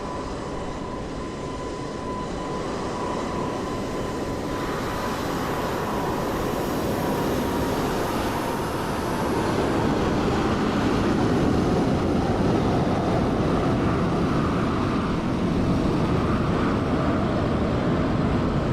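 Airliner in Iberia livery landing at Dublin Airport in Microsoft Flight Simulator 2020, a steady broadband engine and rushing roar that holds at an even loudness and swells slightly midway, with no talking.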